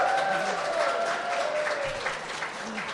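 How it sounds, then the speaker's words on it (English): A crowd applauds steadily throughout, a dense wash of clapping with a faint whistle near the start. "I need a round of applause for Stanton Friedman, please."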